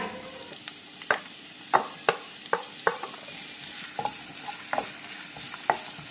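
Sliced onion fries in hot coconut oil while a spoon stirs it: a steady soft sizzle runs underneath and sharp scraping clinks of the spoon against the pan repeat every half second or so, close and clear, without talk.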